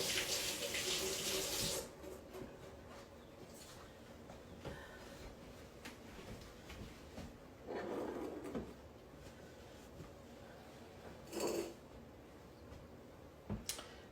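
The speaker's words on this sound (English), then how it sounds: "Let me rinse my hands." Hands rinsed under a running kitchen tap during pie making: a steady rush of water opens the clip, then cuts off, followed by quieter handling noises and a few brief splashes and knocks.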